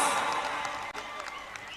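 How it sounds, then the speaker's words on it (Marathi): A crowd applauds at a wrestling match, the Bhima Kesari 2024 bout won by Sikandar Shaikh, a dense steady wash of clapping with a commentator's voice over it and a brief dip near the middle. "शाबास, टाळ्या टाळ्या टाळ्या."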